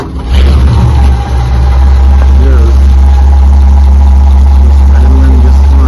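A 1941 Ford cabover truck engine idles steadily and loud close by, a deep constant rumble running on a mechanical fuel pump, with faint voices in the background.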